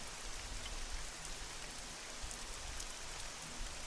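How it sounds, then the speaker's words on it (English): Steady rain ambience plays as a backdrop, a dense, even hiss of drops pattering on surfaces at moderate level, continuous throughout with no voices. "Oh, is the rain too loud?"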